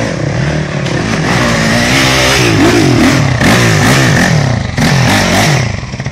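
An imported motorcycle engine revs loudly on a dirt trail, a steady close roar with rising and falling pitch sweeps throughout, no talk over it.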